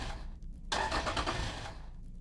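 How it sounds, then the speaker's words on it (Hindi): A motorbike on a cold hillside failing to start: a short cranking, sputtering engine burst lasting about a second, then fading back to a quiet background, with no speech. "हमने बाइक को स्टार्ट करने की कोशिश की, बट अनफॉर्चुनेटली हमारी बाइक भी स्टार्ट नहीं हो रही थी।"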